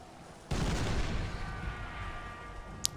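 An artillery piece fires in Warhammer: Mark of Chaos: one abrupt, heavy blast breaks a quiet moment, then a rumbling tail slowly fades, followed by a small sharp click near the end.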